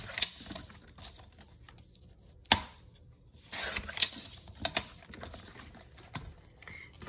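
Scissors cutting the sides off paper for a junk journal insert, heard as a few close, sharp snips and rustles spread unevenly across the stretch.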